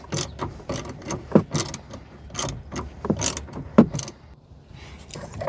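A socket wrench undoes a bolt on a Jeep Wrangler rear tail light assembly, giving a series of close, quick ratcheting clicks in short bursts with a few louder clanks between.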